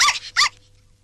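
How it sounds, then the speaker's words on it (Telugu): A puppy unwrapped from a moving parcel lets out two short, sharp whimpering yelps in quick succession, loud and close, then falls quiet. "కుక్క పిల్ల."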